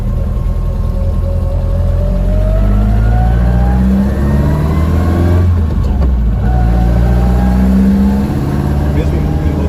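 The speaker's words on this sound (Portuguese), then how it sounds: "tenta agora só encosta o pé no acelerador e já... Você vê que ele já vai vai acelerar bastante" BMW 320i E21 with a MoTeC M4-tuned engine accelerating, a loud, steady mid-range roar climbing in pitch, briefly easing off then pulling again, with people talking over it.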